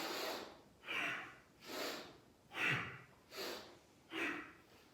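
Forceful breathing in and out through the nose during an energizing breathing exercise, six strong rhythmic breaths about a second apart, close and loud, with no talking.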